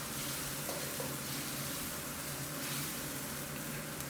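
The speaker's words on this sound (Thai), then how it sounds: "ผัดจนใบมะกรูดเริ่มมีกลิ่นหอมสักครู่หนึ่งก่อนครับ" Canned fish stir-frying with torn kaffir lime leaves gives a steady, dense sizzle throughout, with faint stirring under it and no talk.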